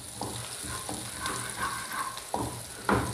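Onion tadka with turmeric and chili fries in hot oil for dhaba-style dal, a close, steady sizzle punctuated by several sharp stirring scrapes against the pan.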